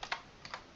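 Two quick pairs of key clicks on a computer keyboard while a formula is typed in Excel, close and fairly quiet, with a short pause between the pairs.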